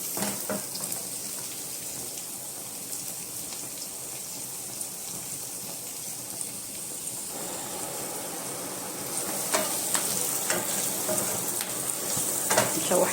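Potatoes frying in hot oil for a potato and chicken dish, a steady dense sizzle and crackle throughout that grows louder and sharper in the final seconds, close up with no talking.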